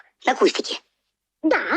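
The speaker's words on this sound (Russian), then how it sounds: "Ты как раз чихнула, когда собиралась сказать." A woman sneezes once, a short burst close to the mic, followed after a pause by her speaking in a quiet room.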